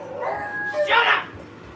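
A single dog barks once or twice in a short burst, moderately close, while a person's voice is also present.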